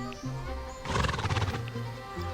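A Swedish Warmblood horse in the online riding game Star Stable whinnies loudly and close, a quavering neigh over a steady game background with soft hoof clip-clops before and after.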